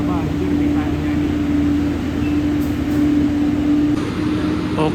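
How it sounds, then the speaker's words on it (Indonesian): A rail maintenance train, the Pleasure Explorer, sits at Semarang Poncol station with a loud steady engine drone and a strong low hum. Someone talks over it. "jalur 1 ada kereta Pleasure Explorer, kereta perawat jalan rel"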